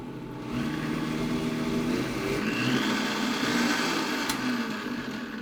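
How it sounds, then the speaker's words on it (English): A Vitamix blender churning thick raw tahini sauce, a steady loud motor whir with the load shifting slightly as the jammed mixture frees up, running continuously with no talking. "We just popped the air bubble in the Vitamix."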